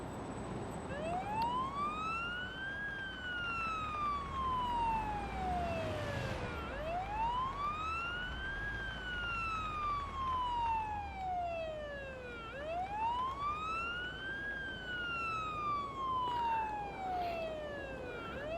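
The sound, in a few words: ambulance siren in video game Ambulance Life: A Paramedic Simulator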